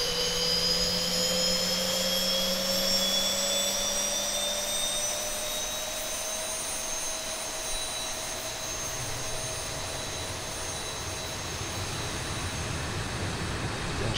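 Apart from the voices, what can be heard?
Boeing 737 jet engine starting up in X-Plane 11 flight simulator game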